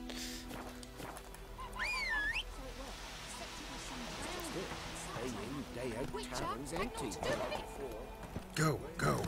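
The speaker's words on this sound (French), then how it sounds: "on va prendre le cheval." Horse riding in The Witcher 3, with hoof clip-clops and galloping footsteps running through the scene alongside game sounds and a brief neigh, while a person talks over it.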